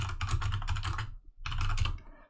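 Fast, close typing on a computer keyboard in two quick bursts of clattering keystrokes separated by a short pause.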